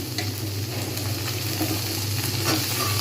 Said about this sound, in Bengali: পেঁয়াজগুলো বাদামি রঙের হয়ে গেছে আমি এর মধ্যে এবারে টমেটোগুলো দিয়ে দেবো